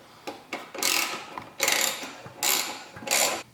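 A hand ratchet tightening the clamp where a catless downpipe meets the turbo on a Mk7 Volkswagen GTI, four close, loud bursts of rapid clicking separated by short pauses.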